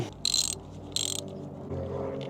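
Two short ratcheting bursts from a wrench as bolts are tightened on a Honda Grom motorcycle during its first service, close and clear, followed by a low mechanical hum.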